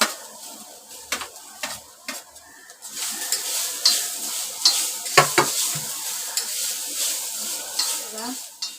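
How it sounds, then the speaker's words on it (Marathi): Grated coconut roasts in a pan for a Malvani-style onion and coconut masala, with scraping stirring strokes over a continuous dry sizzle, close and fairly loud. "हे खोबरं भाजून घेते."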